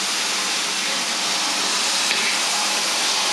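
Food frying and browning in a pan while cooking, a dense, steady sizzle that hisses evenly throughout, loud and close with no voices over it.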